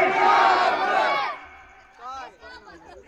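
Crowd at an Islamic religious gathering (jalsa) during Ramadan shouting a loud, unified chant in response to a takbir call, a dense roar of many voices that fades into quieter speech.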